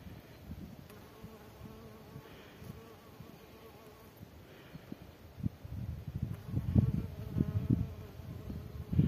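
Bees buzz close by at a hive fitted with a winter mouse guard on the entrance, one trying to get inside. The droning hum is steady throughout and swells louder toward the end.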